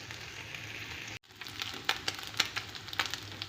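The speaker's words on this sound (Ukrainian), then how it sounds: "буду смажити до такої золотистої шкірочки, до висмаження жиру" Quiet sizzling and faint crackling pops of turkey fat frying in a pan, with a brief dropout near the start.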